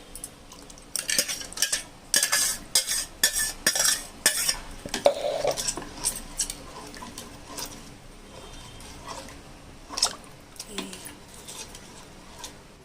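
A spoon stirs ground avocado into milk for a milkshake, making a burst of quick, close clinking and scraping against the container. It then gives way to quieter, sparser taps and rustles, with no speech.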